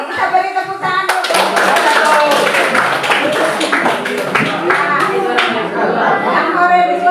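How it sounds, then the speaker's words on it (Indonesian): Applause from a class of students during a science lesson, a dense, lively clatter of many hands with children's chatter running underneath throughout. "kita beri tepuk tangan dulu"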